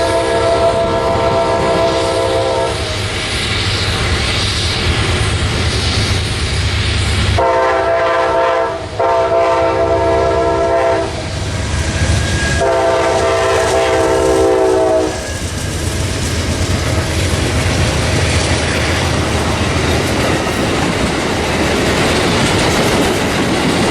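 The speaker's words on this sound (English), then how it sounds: "SunRail P320 moves southbound" SunRail P320 commuter train passing southbound in Florida heat, its air horn sounding in several long blasts over the steady roar and rumble of the passing cars, loud and close throughout.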